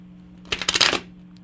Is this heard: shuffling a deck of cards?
yes